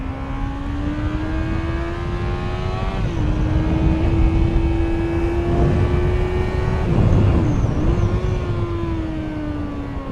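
A Honda CBR650R four-cylinder motorcycle being ridden, its engine holding a steady, smooth drone with a brief dip and recovery in pitch midway, loud and close over constant wind and road rumble.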